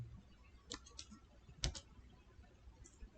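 Someone types a search for Device Manager into the Windows 11 Start menu on a computer keyboard. A few faint, sparse key clicks come in small clusters against a quiet room background.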